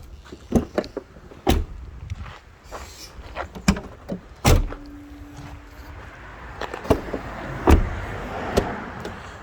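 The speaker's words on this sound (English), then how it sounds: "that will just unlock all the doors." Central locking on a 2001 Volkswagen Polo 1.4 automatic unlocking the doors, heard as a few sharp mechanical clunks and clicks from the door locks nearby, with a brief motor whir between them and no talking.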